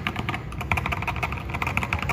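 Tactile Akko Jelly Sponge switches on a mechanical keyboard clatter in fast, steady typing, a dense run of crisp close keystrokes with no talking.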